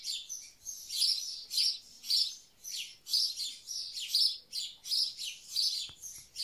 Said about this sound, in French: Je suis en train de chercher l'oiseau pour vous le montrer, mais je ne sais pas où il est passé.